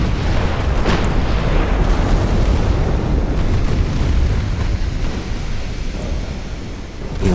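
Battleship blowing up in the naval strategy game Ultimate Admiral Dreadnoughts, a loud sustained rumbling explosion with crackling bursts and booms that stays dense and heavy throughout.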